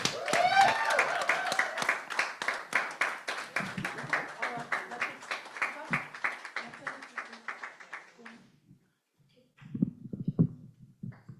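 Audience clapping at a gala as a performer is welcomed to the stage, fairly close and rhythmic. It thins out and stops after about eight seconds, then a brief murmur of voices follows.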